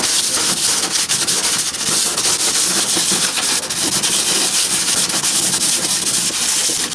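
Cured epoxy bilge paint inside a boat's bilge is sanded, giving a loud, continuous abrasive rubbing hiss with quick back-and-forth strokes and no talking.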